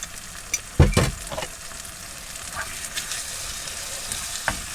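Minced meat and garlic fry in a pan for a shepherd's pie, with a steady close sizzle and a few louder stirring knocks and scrapes near the start.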